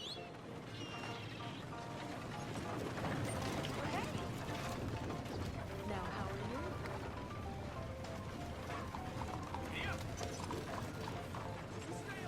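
Horse hooves clip-clopping at a steady riding pace in Red Dead Redemption 2, a continuous rhythmic patter under rustling tack and game ambience, with voices talking over it.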